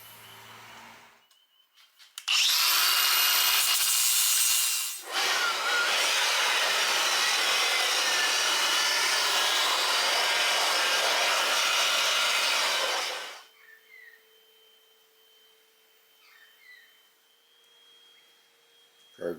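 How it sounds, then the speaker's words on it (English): Angle grinder smoothing down raised bumps and ragged spots on car bodywork during bumper repair, loud sustained abrasive whine in two bursts, a short one then a long steady run of about eight seconds, fading to quiet afterward. "Just going to grind these back"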